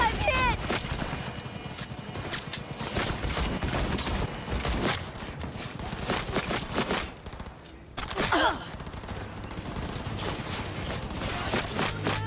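Steady gunfire from a gun in Cyberpunk 2077 rattles on almost without pause in dense, loud bursts, dropping briefly to a near-lull partway through before the shooting resumes amid busy game sounds.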